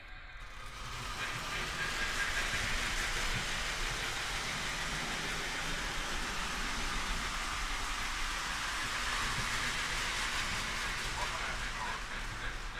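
A Lionel tinplate Christmas passenger and freight model train runs on a layout, giving a constant whirring, rattling rumble that fades in at the start, then holds steady and close for the rest.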